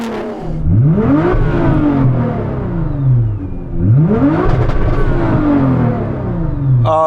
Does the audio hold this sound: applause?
no